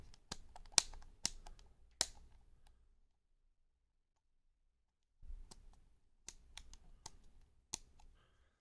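Start, select and mini switches on old and new game controllers, including NEC pads, being pressed. The clicks are crisp and close, falling in two quick bursts with a silent gap between them and no voices.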